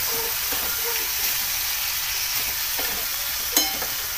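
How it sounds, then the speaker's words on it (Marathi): Val bean pods are stirred into chili spice in a dry pan, giving a constant sizzle with soft scrapes and a sharp utensil knock near the end; no speech. "आता आपण तिखटमध्ये छान मिक्स करून घेऊ"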